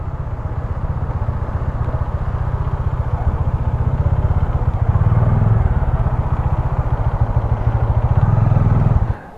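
A motorcycle engine idles steadily with a close, even low throb and clatter as the bike is parked, running loud the whole time before cutting off abruptly at the end.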